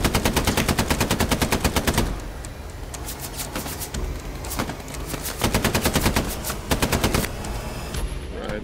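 Machine gun fire in the video game Hell Let Loose, a loud, close rapid burst at the start, then scattered shots and further short bursts over a steady battlefield background.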